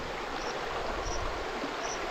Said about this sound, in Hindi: एकदम निर्मल और स्वच्छ जल।